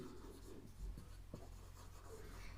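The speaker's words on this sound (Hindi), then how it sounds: "जैसे एक सेंटेंस और मैं यहां पर लिखता हूं, राम इज" Faint scratching of a sentence being written on a board, soft strokes under a steady low hum, with no talk.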